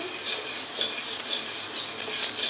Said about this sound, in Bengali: তো মুগ ডালটা আগে ভেজে নিই।